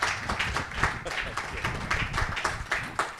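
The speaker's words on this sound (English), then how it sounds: "So if we could just give them a round of applause" Audience applause for an alumni career panel at a university career week event, a steady mix of claps from a modest crowd lasting a few seconds with some voices under it.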